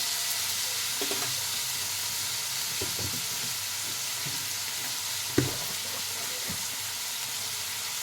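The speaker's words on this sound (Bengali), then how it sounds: "এই মটরশুঁটির ছিলকা দিয়ে ভালো করে আমি ভাজা ভেজে নেব" Pea pod peels fry in a pan with a steady, close sizzle, marked by a few light scrapes of stirring and one sharp knock partway through.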